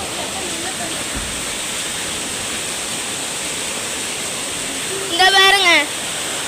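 Water flows steadily down a hillside, a continuous broadband rush with no breaks. A voice speaks briefly near the end.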